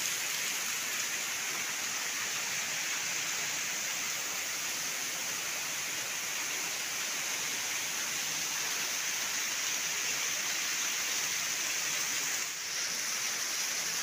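A waterfall roars as a constant, dense wash of falling water, loud and unbroken throughout with no other sounds standing out.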